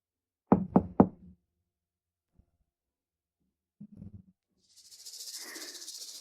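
Three quick, loud knocks land on a door in a quiet room, then a softer, muffled pair of knocks follows a few seconds later, ending in a hiss of rain.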